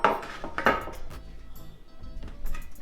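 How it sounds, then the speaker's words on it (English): A baking pan from making espresso brownies is set down in a kitchen sink, with a couple of clattering metal knocks near the start followed by lighter dish and utensil clinks. "Wait, we're gonna bring the pan over here. Put that in the sink."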